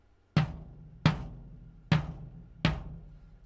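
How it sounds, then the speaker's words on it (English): Bass drum with a newly replaced head, struck with a drumstick four times in a steady rhythm, each hit a loud, deep boom that rings and decays before the next. "Now it sounds like a drum."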